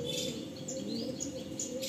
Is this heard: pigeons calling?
yes